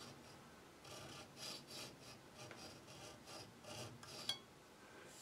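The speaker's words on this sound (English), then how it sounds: "You're just sawing down the wall thickness of the end cap." A hand saw works through the wall of a wooden end cap on a drawknife handle, giving soft, rhythmic rasping strokes, about ten in a row, quiet and close.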